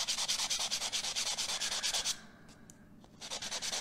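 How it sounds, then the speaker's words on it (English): A metal stamped ring is buffed with rapid rhythmic back-and-forth rubbing strokes, close and fairly quiet, pausing briefly near the end before the strokes resume. "for video's sake and not having to watch me buff this forever, I'm just gonna kind of quickly touch it"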